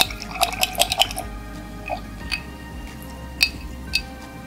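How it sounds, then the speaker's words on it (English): A paintbrush rinsed in a water container while acrylic painting, with light clinks and small watery splashes in a quick cluster at the start, then a few sparse taps and drips, close and fairly quiet. "Now I'm going to rinse off my brush really well."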